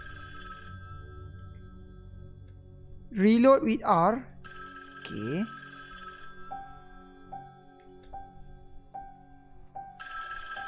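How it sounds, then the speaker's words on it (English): A telephone rings repeatedly in the Halloween horror video game, a series of evenly spaced short electronic rings in the second half, following bursts of speech and game sounds. "Answer the phone."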